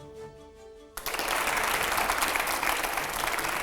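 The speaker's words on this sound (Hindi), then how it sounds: "जोरदार तालियां हो अनु जी के लिए सर" Studio audience at a televised debate show bursts into loud, sustained applause after a brief quieter moment, the clapping dense and continuous to the end.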